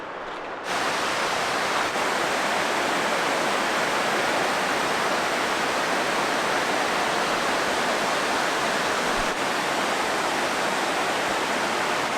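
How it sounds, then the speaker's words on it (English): Overflow from a dam pours down as a waterfall, a dense, steady roar of rushing water that starts abruptly and holds loud and unbroken throughout. "On the other side of that bridge, there's a dam, and this is the overflow from the dam."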